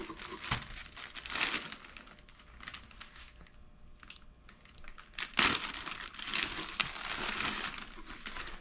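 Bubble wrap being unwrapped from aircraft landing gear parts and rims: continuous close crinkling and crackling of plastic with quick sharp pops, fairly steady throughout with a brief lull midway.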